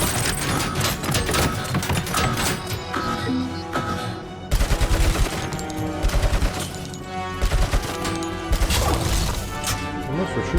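Bursts of M60 machine gun fire from the video game Robocop: Rogue City ring out in loud, rapid volleys, mixed with crashes and game effects, with speech heard at times.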